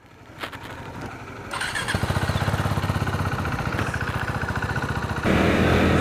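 A KTM 390 motorcycle engine cranks and catches, then settles into a steady, loud, close-up rumble that builds in volume, with a further rise in revs near the end; no one speaks.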